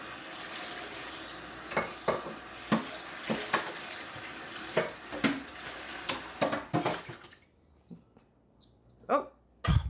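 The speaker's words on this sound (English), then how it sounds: "So I'm just going to swill this one off and we'll have a look." Water swilled over a caked-on dish at a kitchen sink after an Aldi Dishmatic wash, a steady running-tap wash broken by irregular splashes and sloshes, then quieter gaps with a few final drips and splashes.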